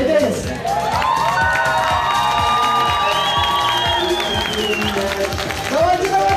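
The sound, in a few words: audience applause and cheering at a birthday party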